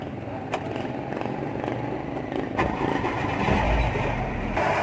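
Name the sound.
car engine starting and idling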